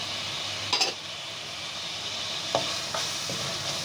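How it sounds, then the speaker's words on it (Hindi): Spices and ginger-garlic paste fry in a pan for palak keema, a steady sizzle broken by a few sharp scrapes of stirring. No one speaks. "तो सब भून मसाले को सब मिक्स कर लेते हैं।"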